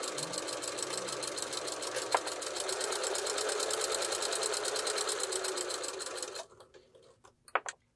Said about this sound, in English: we are going to go over to the machine and stitch 1/4 inch those two edges